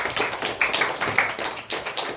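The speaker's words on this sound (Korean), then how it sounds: "아동부 나올 때 박수하겠습니다" Scattered hand clapping from a church congregation during a Sunday worship service as a children's group walks out to sing, with irregular, overlapping claps at steady volume and no talking.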